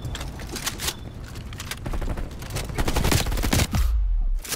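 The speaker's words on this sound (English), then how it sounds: "Somebody's shooting me from behind" Rapid bursts of gunfire ring out behind the player in a Call of Duty Hardpoint match on Nuketown 84, dense repeated shots filling the whole stretch, loud and continuous with a short lull near the end.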